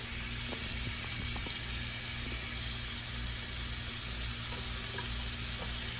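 Onion sizzles in a hot pan, giving a steady, moderately loud hissing fry with a few faint clicks and scrapes, close and even throughout with no talking.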